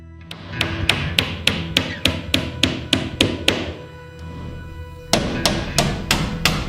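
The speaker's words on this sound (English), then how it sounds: "I can work with this hammer." Floorboards are struck with a hammer in a steady run of sharp blows, about two per second. The hammering pauses briefly and then resumes, close and clear with no talk.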